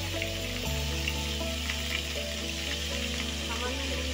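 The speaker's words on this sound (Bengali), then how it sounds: "সামান্য নুন দিয়ে দিলাম আর আলুটা ভালো করে ভেজে নেব" Potatoes frying in hot oil with a little turmeric and salt give a steady, close sizzle and crackle with a low hum underneath, continuous through the whole stretch.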